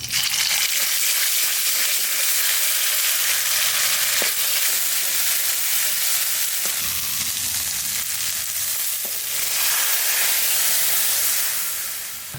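Dry red chillies, bay leaf, cumin and coriander crackle and sizzle in hot oil in a village-style kitchen, a steady loud frying hiss running throughout with a few sharp pops.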